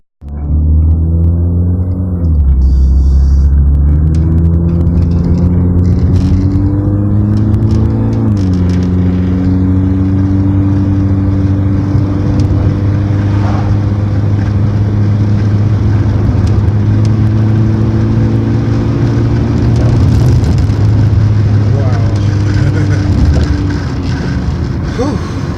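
Honda Accord CB7 engine pulling hard through mountain corners, a loud, steady drone from inside the car with the pitch rising and then dropping at shifts and as the car slows into bends.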